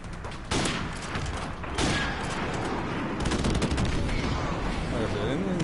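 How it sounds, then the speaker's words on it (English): Friendly airstrike in a sniper game: dense bursts of gunfire and rolling blasts crackle continuously, loud and chaotic, with voices faintly mixed underneath. "Friendly airstrike on the way."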